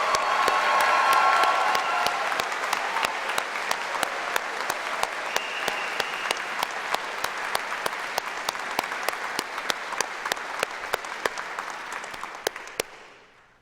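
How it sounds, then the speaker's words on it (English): A gala finals audience for young American classical pianists gives a dense, sustained round of applause that stays loud at first, then thins into scattered claps before fading out. "Let's have another round of applause for the top 5 young American classical pianists."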